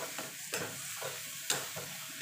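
Mashed roasted eggplant with oil, tomato and garlic being stirred in a pan for begun bharta, a soft sizzle underneath and a few distinct scraping strokes of the spoon at a slow, regular pace.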